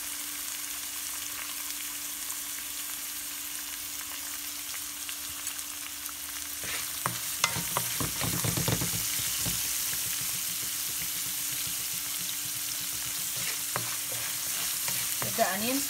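Onions sizzle and fry steadily in a pan for coconut rice, a constant hiss with stirring scrapes and clatter growing busier midway, no talking.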